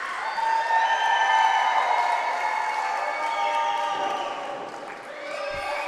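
Cheering and applause from a wrestling crowd at a live show, a sustained wall of voices with scattered whistles that dips briefly near the end before rising again.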